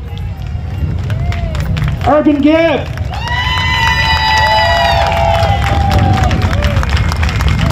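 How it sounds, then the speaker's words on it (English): A crowd cheers and applauds for the Grand Marshal at a hometown tribute gathering for Ira Hayes, with a steady wash of noise throughout and a voice speaking over it. "Let's give a round of applause for our Grand Marshal,"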